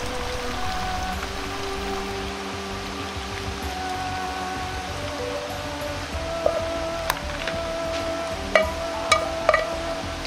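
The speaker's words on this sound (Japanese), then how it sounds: "野菜のくずの出汁ができたので、紙でこします" Vegetable-scrap broth straining through a paper filter: a steady soft patter of drips, with a few sharper droplets landing toward the end.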